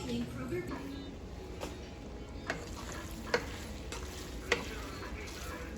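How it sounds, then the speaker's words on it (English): Homemade Haitian spaghetti with turkey sausage, onions and tomato pieces gets stirred in a pan, giving a soft, low sizzle with a few sharp scrapes and clicks from the utensil. "I'm just going to finish stirring it up"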